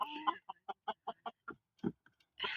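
Rooster named Zygmunt giving a run of about eight short, evenly spaced clucks, close by, bracketed by a longer call at the start and a louder burst at the end.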